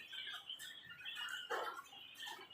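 A pet bird gives a series of thin, high chirps and short squawks nearby, fairly faint against a quiet room, with no talk.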